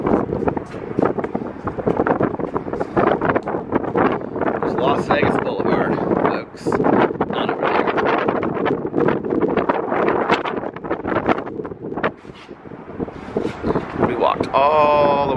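Strong wind buffeting the microphone in loud, continuous gusts, with a person talking underneath throughout.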